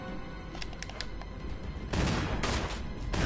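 Gunfire rattles in the survival horror game Resident Evil, a rapid cluster of shots that swells loud and dense over the second half after quieter ambient game sound, with no talk.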